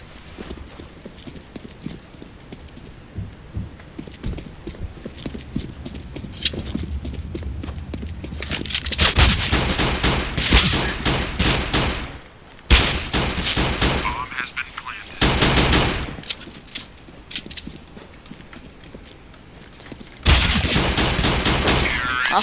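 Gunfire in the shooter game CS:GO, loud sustained bursts of automatic fire in several long stretches with short gaps, preceded by quieter game noise and footsteps.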